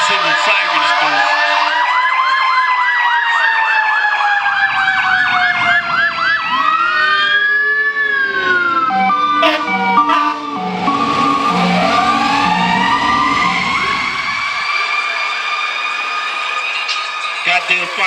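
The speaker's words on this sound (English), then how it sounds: "Goddamn fire trucks coming through here making all that noise" Several fire truck sirens pass close by in the street, loud wailing and yelping tones rising and falling over each other, with an air horn blast midway and deep engine rumble beneath as they roll through.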